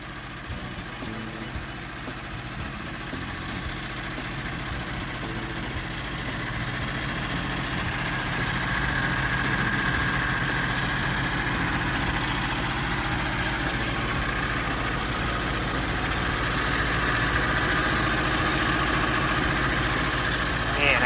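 The diesel engine of a ZAOH 6150 street sweeper idles steadily nearby, a low continuous rumble with mechanical clatter that grows slightly louder partway through, and a voice speaking over it.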